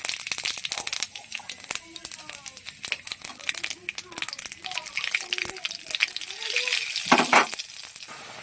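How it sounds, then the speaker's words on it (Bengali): Cumin seeds crackle and spit in hot oil as a tempering for coconut hilsa curry, giving a busy run of sharp pops and sizzle with a voice talking over it and a brief louder burst near the end. "ফোড়ন দিয়ে দিলাম"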